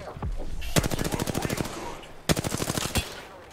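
Automatic weapon fire in the battle royale shooter Apex Legends, two loud rapid bursts of evenly spaced shots, the first longer and the second shorter after a brief pause, close and dominant.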